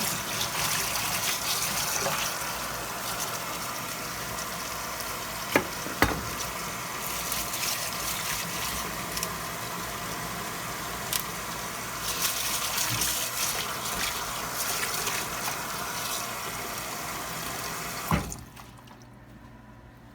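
Water runs steadily from a tap into a basin for a long stretch, with occasional clinks and splashes of produce being rinsed, then it stops.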